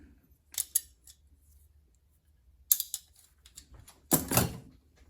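Rusted scissors snip open and shut in three quick bursts, crisp metallic clicks close by with short quiet gaps between them.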